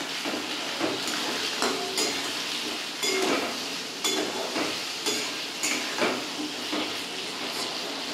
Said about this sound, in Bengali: এবার লাল করে আমি ভাজবো